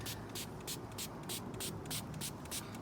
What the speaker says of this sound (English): So we're gonna go ahead and just spray these